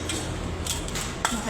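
Cooking pot and utensils clatter during a mukbang meal, quick metallic clinks and scrapes against a steady room hum, with a person talking nearby.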